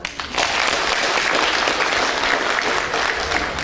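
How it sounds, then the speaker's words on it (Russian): An audience at a penal colony talent contest claps loudly and steadily for the participants, a dense, sustained wash of applause from a large crowd. "Еще раз давайте искупаем участников конкурса аплодисментами."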